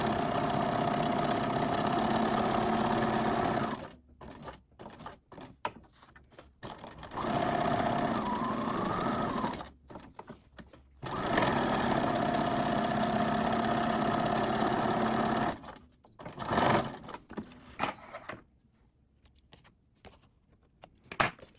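A sewing machine stitches around paper sewing tags for a junk journal in steady mechanical bursts of several seconds, stopping and restarting a few times, with brief handling clatter between runs.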